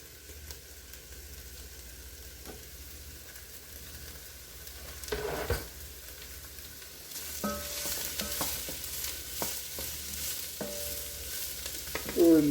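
Yellow onions for red beer chili are being fried, giving a soft steady sizzle in the pan with a few scrapes and stirring knocks, fairly faint and close.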